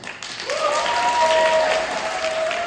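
A burst of theatre audience clapping in a vote for an option swells quickly and holds, a dense wash of hands with a faint steady tone underneath.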